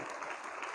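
Worshippers clap at a prayer service, a brief, faint burst of dense applause.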